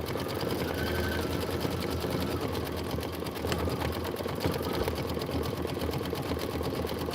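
An embroidery machine stitches out stems and leaves for a quilt block, a steady, fast mechanical whirring and needle chatter running continuously at close range without a break.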